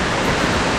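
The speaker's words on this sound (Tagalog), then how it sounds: "Lapitan na natin ang Tinago Falls." Tinago Falls in Iligan City, Lanao del Norte, pours in a brief, steady roar of falling water, a dense, even rush heard up close with no voices.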